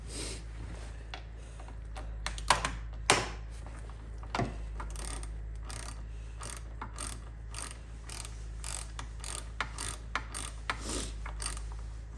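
Socket ratchet turning down bolts while mounting a vintage vise to a workbench: scattered sharp clicks and short bursts of ratcheting over a steady low hum, fairly close, with no talking.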